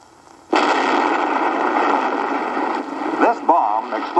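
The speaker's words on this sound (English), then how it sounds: "This bomb exploded far over the Pacific." A hydrogen bomb explodes far over the Pacific in a documentary film: a sudden loud onset swells into a sustained roaring blast that rumbles on for several seconds, with a narrating voice coming in near the end.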